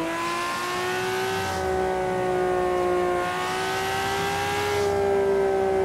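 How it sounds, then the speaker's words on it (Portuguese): Nissan Skyline GT-R R32 engine in the Forza Horizon racing game, a steady loud engine whine that rises and dips as the car downshifts and holds revs over several seconds. "Curte esse som da reduzida, né?"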